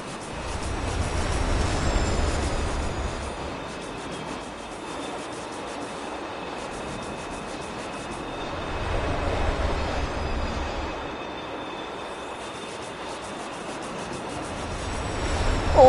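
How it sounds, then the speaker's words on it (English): A train in the video game Destiny 2 rumbles past close by, a broad steady roar that swells twice and ebbs, with no one speaking. "that train was so close to you"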